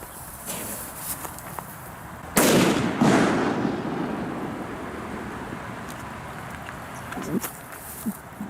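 A sharp firecracker bang goes off outdoors at an echo-rich spot, and a strong echo rolls back about half a second later before fading, with faint rustling around it.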